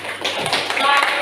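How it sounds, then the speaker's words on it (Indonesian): A quick burst of classroom applause for a student, a short flurry of students clapping close by, with voices mixed in. "Tepuk tangan untuk Ardi sampai tadi."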